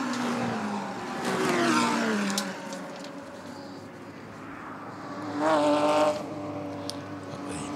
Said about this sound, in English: Sounds as happy now as it did when it started, doesn't it? Well, that's a Porsche for you, isn't it?